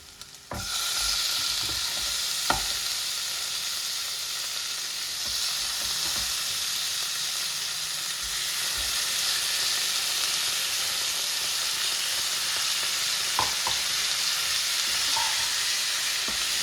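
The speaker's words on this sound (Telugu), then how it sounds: "ఇప్పుడు వచ్చేసి దీంట్లో చికెన్ వేసుకుంటున్నాను" Chicken pieces fry in a pan with ginger and turmeric, a loud, constant sizzle that starts abruptly and carries on close by, broken by occasional scrapes and knocks of a stirring spoon, with no talk.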